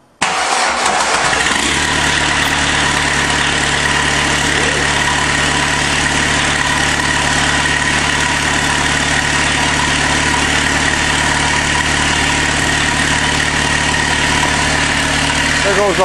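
A VW diesel engine, hung on a chain on a farm after the glow plugs are warmed, cranks briefly and fires, then settles into a loud, steady, close-up rattling idle that runs unbroken to the end.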